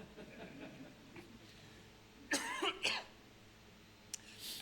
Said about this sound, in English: what do you do when you have a cough?